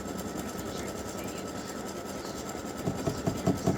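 An embroidery machine satin stitching freestanding lace Christmas tree earrings, making a steady rapid mechanical whirr with fast regular needle taps that grows slightly louder toward the end, with no voices.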